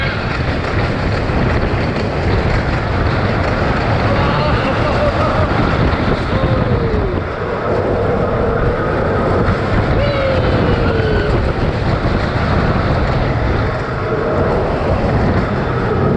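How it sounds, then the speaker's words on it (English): Steady roaring rush of wind and rumbling wheels from a roller coaster in motion at Winter Wonderland, Hyde Park, loud and continuous, with faint squeals rising now and then. "That's a great coaster, isn't it?"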